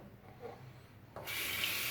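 Tap water abruptly starts running and pours steadily to wet an old shave stick at a sink, following a brief soft rubbing sound.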